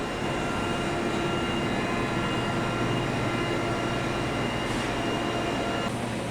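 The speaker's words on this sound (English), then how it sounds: "This fan redirects a portion of the exhaust back into the incinerator." Exhaust gas recirculation fan at a garbage incinerator plant gives a loud, steady broadband roar with a constant underlying hum, unbroken for the whole stretch and with no voices.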